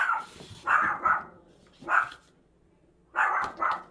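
A dog barks in quick pairs and single yaps, five or six sharp barks in short clusters with quiet gaps between, fairly close and clear.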